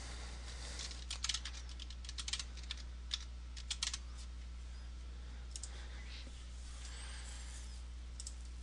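Quick bursts of typing on a computer keyboard while entering a password in Windows 7, with close, light key clicks clustered in short runs separated by pauses over a faint steady hum.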